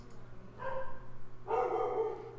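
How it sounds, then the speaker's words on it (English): Dogs bark in two short bursts, somewhat distant and moderately loud, over a low steady background hum. "Oh my god, they're still barking? What are they even barking at?"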